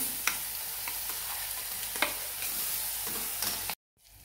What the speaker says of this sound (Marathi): हिरवी मिरची सर्व टाकून घेतलेली आहे. छान परतून घेणार आहोत.